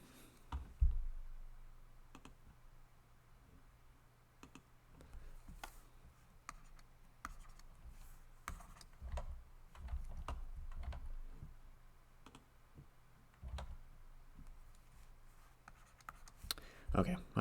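A stylus tapping and scratching on a tablet screen produces faint, irregular clicks and ticks at close range, with occasional low voice sounds in the background.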